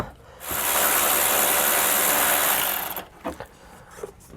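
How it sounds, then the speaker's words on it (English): A right-angle ratchet tightens a nut on a truck's helper spring mount, giving a loud continuous buzzing ratchet whir for about two and a half seconds, followed by a few brief, softer clicks. "you can switch over to a right angle ratchet if you have one"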